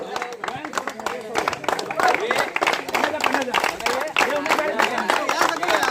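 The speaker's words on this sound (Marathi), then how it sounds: "टाळ्यांचा गजरात स्वागत, अभिनंदन करायचे त्यांचं." A crowd applauds the runner-up cricket team at a village tournament final's prize ceremony, with scattered clapping running steadily beneath loud, overlapping talk throughout.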